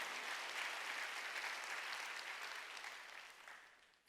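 A church congregation claps during a Sunday worship service, producing a steady, dense wash of applause that sounds distant and quiet and gradually dies away.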